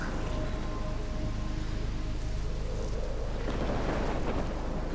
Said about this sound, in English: We are in the middle of a storm